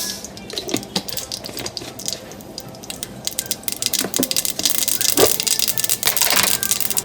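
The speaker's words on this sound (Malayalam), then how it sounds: "എണ്ണ ചൂടായിട്ടുണ്ട്. നമുക്ക് ഇതിലോട്ട് കടുക് ആഡ് ചെയ്ത് കൊടുക്കാം." Mustard seeds go into hot oil in a pan while a Kerala-style vegetable kurma is being cooked, setting off a rising crackle of sharp pops and spits that grows denser and louder toward the end.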